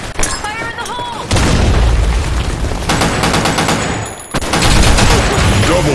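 In a video game firefight, a grenade blast and bursts of rapid gunfire come loud and close, a dense rattle broken by short pauses, with brief game voice sounds at the start.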